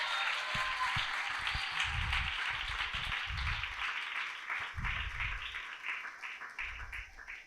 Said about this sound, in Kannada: ಚಪ್ಪಾಳೆ ಹೊಡೆದು ಒಂದು ದೇವರನ್ನೇ ಸ್ತುತಿ ಮಾಡು